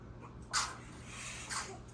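A newborn baby sneezes twice, about a second apart: two short, close, soft bursts in a quiet room.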